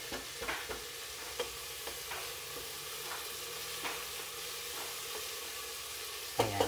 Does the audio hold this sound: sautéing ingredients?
yes